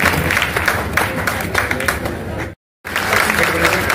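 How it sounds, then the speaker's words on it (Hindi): Loud applause from an audience at an honour ceremony in a town hall in Bihar Sharif, dense clapping filling the room with a brief cut to silence before it resumes. "एक बार जोरदार तालियों के साथ स्वागत करना चाहता"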